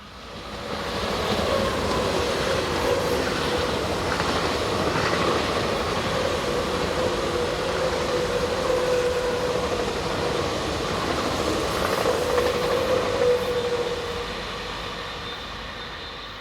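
A Swiss Class 500 electric train, units 500 024 and 020, passes on a Biel to St. Gallen service, its steady rolling roar and electric whine rising quickly, holding loud and even for about twelve seconds, then easing off.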